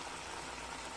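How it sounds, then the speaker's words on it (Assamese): Amita khar, an Assamese raw papaya curry, bubbles steadily in a pot with a faint, continuous crackly simmer and no voices. "ধুনীয়াকৈ উতলি আছে"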